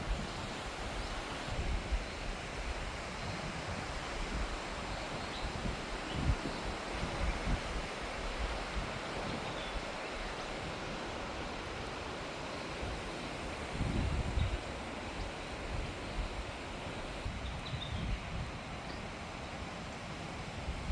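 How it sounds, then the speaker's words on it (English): Wind rushes through tall pine trees in a forest, a steady, broad whooshing that swells gently now and then over about twenty seconds, with no voices. "Hear the wind up there too?"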